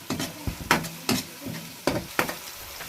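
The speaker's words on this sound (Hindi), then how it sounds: "तो इसमें मैं अब लहसुन और अदरक का पेस्ट डालती हूँ।" Onion, ginger and garlic paste frying in a pan for chicken karahi, with a soft steady sizzle and several sharp scraping stir strokes at an uneven rhythm, close and alone.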